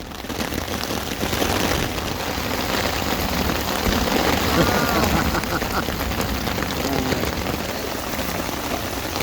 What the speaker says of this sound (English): So we got a thunderstorm moving in, as predicted earlier.